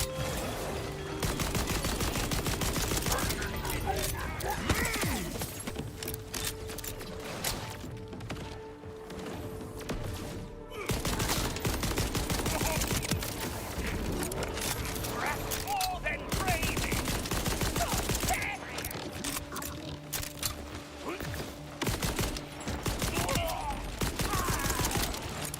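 Sustained bursts of rapid automatic gunfire from a weapon in the shooter game Borderlands 4, dense and loud almost throughout, broken by a brief lull near the middle before the firing resumes.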